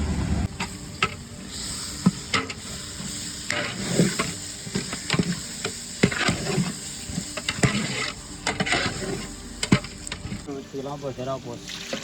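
A large pot of 10 kg of beef for biryani sizzles as it is stirred, with scraping and clanking from a utensil, while voices talk intermittently over the cooking.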